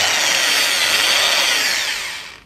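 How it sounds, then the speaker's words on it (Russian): An ordinary corded electric drill spins at full speed, a loud, close, steady high whine that holds for a couple of seconds and then winds down at the end. "Ну, то есть вот дрель обычная."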